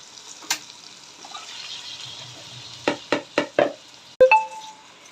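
Chicken pieces go into a pan of softened tomatoes for chicken biryani, with a steady sizzling hiss, one early knock, then four quick clattering knocks and a sharp clank near the end.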